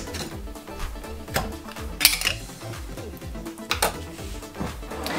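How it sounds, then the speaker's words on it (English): Metal clatter of a pot lid coming off a pot during cannabis tincture making in a kitchen, with a few sharp clinks and knocks over a steady low rumble. "You're gonna take the lid off."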